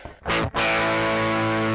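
A harsh, fizzy distorted electric guitar from a Line 6 Helix with no cabinet rings out after a couple of quick picked hits, sustaining loud and buzzy with a thin, raspy top end.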